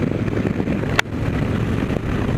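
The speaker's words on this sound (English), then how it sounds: "All I'm hearing right now is wind" Wind rushes in a steady broadband roar while riding a 2016 Harley Road Glide motorcycle, with one brief sharp buffet in the middle.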